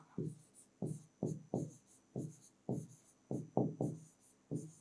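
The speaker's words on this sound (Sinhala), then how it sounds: "ඔන්න සම්පූර්ණ වාක්‍යෙම ලිව්වා." A pen writes a Japanese sentence by hand on paper, with roughly ten short scratchy strokes in an uneven rhythm, close and fairly soft, and no voices.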